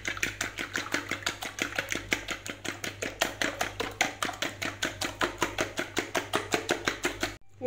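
Eggs with garlic, thyme, parsley, salt, black pepper and seasoning being beaten in a bowl for a savory cake: a fast, even run of close tapping strikes that continues steadily and then stops abruptly.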